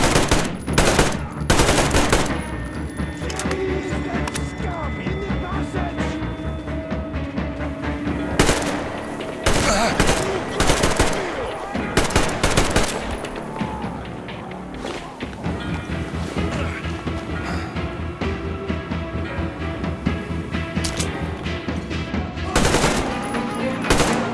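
Sustained machine gun fire from the first-person shooter Metro Exodus, with loud rapid bursts stacked over a dense, busy game soundscape of shots and action for most of the stretch.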